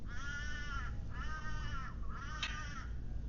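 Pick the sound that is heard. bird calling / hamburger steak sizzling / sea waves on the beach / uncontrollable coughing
bird calling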